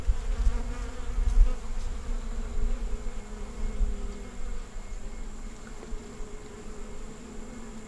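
Honeybees in a three-frame nuc hive with a new queen hum in a steady close buzz that stays loud throughout, with a few louder passes of individual bees near the start and no talking.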